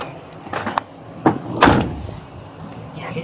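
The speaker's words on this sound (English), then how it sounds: "Maybe you want to close that door." A door swings shut in gusty wind, with a few rattles and knocks building to a solid thud, set against a windy outdoor background.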